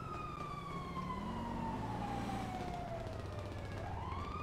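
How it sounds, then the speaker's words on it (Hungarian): Police car siren in the GTA video game wails in a slow falling-then-rising sweep, fairly quiet but continuous under steady engine and traffic rumble. "itt egy rendőrautó. Várjál, ellopom a rendőrautót"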